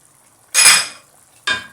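Laksa broth with ginger, lemongrass and laksa leaf being stirred in a pot, two distinct scraping, clattering strokes of a utensil against metal, close and loud with quiet between them.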